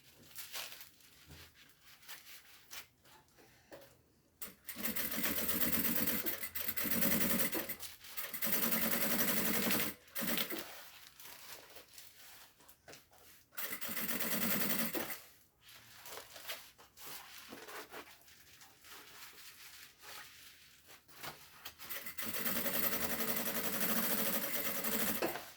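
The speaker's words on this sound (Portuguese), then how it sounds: "Vou rebater aqui com um pé de máquina." A sewing machine with a presser foot topstitches a fabric seam in several bursts of steady whirring, some short and some sustained for seconds, separated by quiet pauses, close and fairly loud with no talking.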